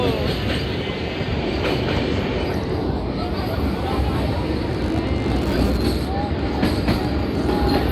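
A Vande Bharat Express train passes close by at Farakka Barrage with a loud, continuous roar, rumbling wheels on rails and a high squeal running through the whole stretch.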